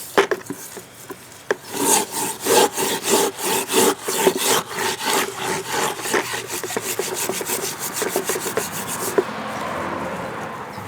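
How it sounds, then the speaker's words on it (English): Loose rust being scrubbed off a marine gas tank: steady, rhythmic rasping strokes, close and fairly loud, which give way to a softer continuous rubbing near the end. "But all I'm doing is removing the loose rust."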